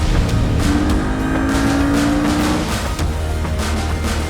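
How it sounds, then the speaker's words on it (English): Porsche 718 Boxster/Cayman GTS engine running loud and close, a continuous deep drone with a rising rev tone and faint crackles in the exhaust, no voices. "the sound is more intense, sportier, racier, and the backfire is also a lot more noticeable"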